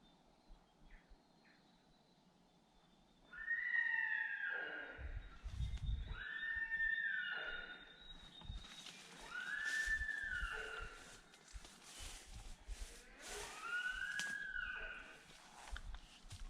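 Several sika deer stags call in turn with high, drawn-out squealing whistles that slide downward, repeated at intervals over a low rumbling outdoor background in New Zealand during the roar.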